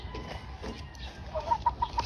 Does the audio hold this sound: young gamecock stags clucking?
yes